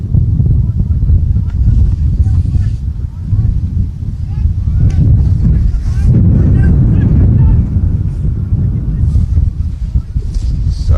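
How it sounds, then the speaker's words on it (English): Strong gusty wind buffets the microphone at a cricket ground, a heavy low rumble that rises and falls while a commentator talks throughout. "Sorry if that's sounds a bit windy. The wind's just really picked up here."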